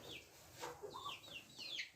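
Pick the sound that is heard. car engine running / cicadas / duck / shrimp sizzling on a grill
duck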